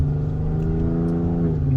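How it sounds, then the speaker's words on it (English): An Audi A7 from 2012 with stage 2+ tuning revs hard in manual mode, a rising engine note climbing steadily across the short stretch, loud and close, with no voices. "manual mode because we wanna go very high on the revs"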